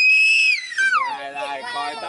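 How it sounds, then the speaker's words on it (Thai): A young child on a bus cries out in a high, loud wail that slides downward and breaks into sobbing, heard close with a faint vehicle background. "มีเสียงเด็กร้องครับ"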